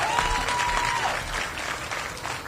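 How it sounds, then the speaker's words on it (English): An audience applauds at a mayoral event at a hip hop museum in the Bronx, a dense roomful of clapping with a brief whistle near the start, fading slightly toward the end. "Let's give them all a strong round of applause for all the work that they're doing."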